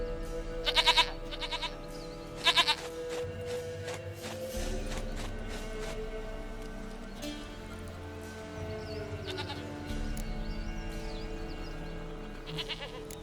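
Goats bleating in The Witcher 3: Wild Hunt: two loud bursts of rapid, wavering bleats early on and a third near the end, over a steady backdrop of game ambience.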